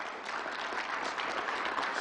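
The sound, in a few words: audience applause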